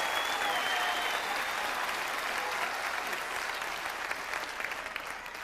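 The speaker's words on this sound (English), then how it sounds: "Everybody in the room is standing up and applauding her question." A roomful of people on their feet gives a standing ovation, dense steady applause sustained throughout with faint crowd murmur and no speech over it.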